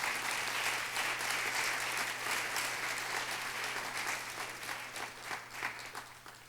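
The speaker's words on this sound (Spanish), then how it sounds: "Denle un fuerte aplauso al Señor." Church congregation applauding during a Spanish-language sermon, a steady, fairly distant patter of many hands that holds for several seconds and then thins out and fades.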